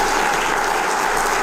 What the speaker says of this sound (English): I think we need to clap for that.